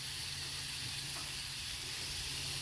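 Brats sizzling on a Blackstone griddle after being flipped, an even, dense frying hiss over a low hum, continuous and close with no speech.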